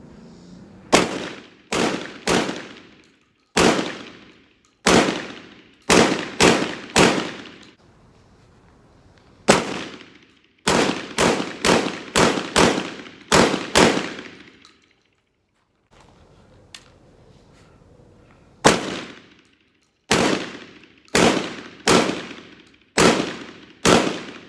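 Mossberg 930 semi-automatic shotgun firing Federal shells, sharp loud blasts in quick strings of three to five shots, separated by short pauses, close by.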